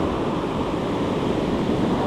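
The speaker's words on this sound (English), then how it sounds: "right in front where these waves are crashing right here" Steady roar of ocean surf breaking at the shoreline of a New Jersey beach during saltwater fishing, a dense continuous wash of waves heard close and loud with no voices.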